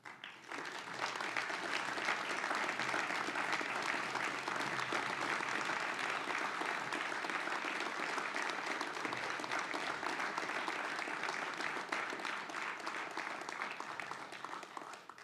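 Long, steady applause from a graduation ceremony audience honouring parents at a family medicine residency graduation, an even wash of many hands clapping that holds level throughout, somewhat distant and moderately soft.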